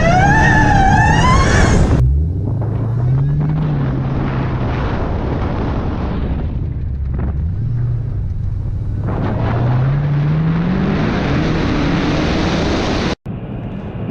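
A 2019 Dodge Challenger Hellcat Redeye with its 797-horsepower engine launches hard, a loud roaring rise with a supercharger whine, sweeping up through gear changes for over ten seconds before cutting off abruptly.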